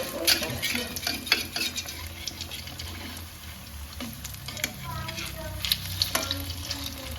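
Food frying and being stirred in a pan, with steady sizzling under repeated scrapes and clinks of a utensil against the metal, close and moderately quiet, no talking.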